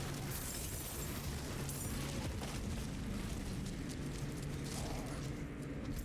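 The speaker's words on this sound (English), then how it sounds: "This is corpse explosion." Corpse explosion skill effects in an action role-playing game form a dense, continuous wash of bursting, crackling blasts and rumbling impacts, loud and unbroken throughout with no clear pause.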